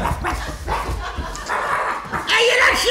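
A dog barks in short bursts amid a noisy indoor scene, with people talking loudly over it and a louder burst near the end.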